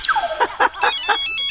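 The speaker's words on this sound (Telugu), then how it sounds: "ఫోన్ ఫోన్ ఫోన్ వచ్చింది." Mobile phone ringtone in a Telugu comedy film scene, a short electronic melody of bright repeated tones that opens with a falling sweep and plays clearly and alone.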